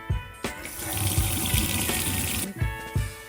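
Hot water runs from a kitchen sink faucet in a steady, close splashing rush that starts abruptly, stops briefly, then resumes, with light clunks of handling around it.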